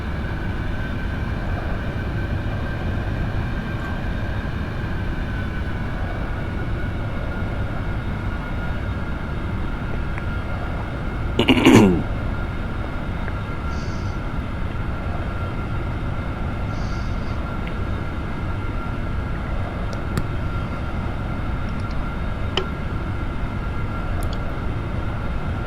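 Aerobask Epic Victory light jet in X-Plane 10 rolling down the runway on takeoff, a steady broadband engine roar with one brief louder burst midway, constant in level throughout.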